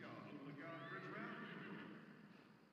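A horse in The Sims 4 gives one drawn-out, wavering whinny with a quick rise and a trailing fall. It is quiet and heard on its own.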